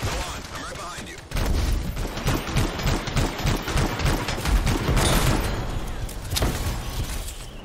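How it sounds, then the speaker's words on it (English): Heavy gunfire erupts in a cutscene from the video game Anthem, opening at about one second into dense, rapid volleys of shots that keep going loud and close to the end. "They're taking fire!"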